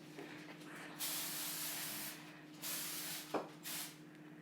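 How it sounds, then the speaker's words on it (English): Cooking spray hisses onto tin foil covering a lasagna in several bursts, one long spray followed by shorter ones, close and fairly quiet, with a small tap between them. "I take my tin foil and I spray the top of this."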